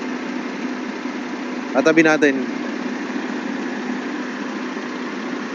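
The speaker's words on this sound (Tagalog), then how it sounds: "Napakatahimik ng makina mga sadik." A new Shacman truck, around a 2023 model, idles quietly nearby with a steady, even low hum, while someone speaks briefly over it.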